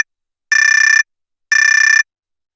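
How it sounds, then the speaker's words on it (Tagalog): An alarm clock ringing, two identical loud buzzing electronic beeps about half a second each, separated by silence, clean and close with nothing else heard. "Ang tunog ng alarm clock ay nagbibigay hudyat na oras na ng pagising."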